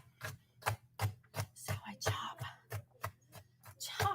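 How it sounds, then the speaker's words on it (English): Knife chopping ingredients on a cutting board while home-cooking a meal-kit dinner, a steady run of about a dozen crisp close chops, with someone speaking briefly over them. "chopping, chopping,"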